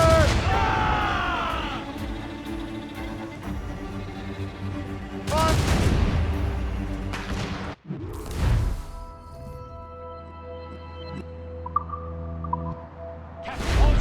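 Ship cannon fire in the naval combat of Assassin's Creed Rogue, several heavy booms with resonant ringing tails spaced across the span, loud and close, amid game sounds and voices.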